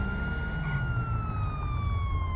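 A police Mercedes AMG siren in GTA V wails continuously with a slowly falling tone over a low engine rumble, loud and close.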